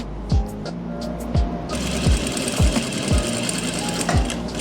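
A sewing machine stitching a belt and elastic onto palazzo pants, running in short repeated bursts with sharp mechanical thumps roughly every half second, close and steady, with a faint voice in the background.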